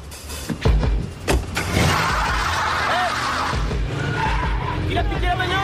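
A stolen car speeds away in an action film scene, tires squealing and skidding loudly after a few sharp knocks and impacts, the sustained screech dominating, with voices briefly heard.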